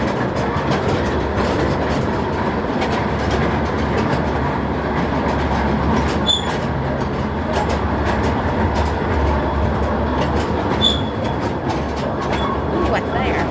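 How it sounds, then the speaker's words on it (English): A mine train rumbles steadily along rails in a copper mine tour with a continuous rattling clatter and occasional squeaks, heard from on board, with faint voices now and then. "so I had to get him on a mine train."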